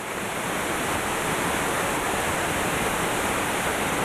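La Fortuna waterfall pours down in a loud, steady, unbroken roar of falling water, heard close up with no voices over it.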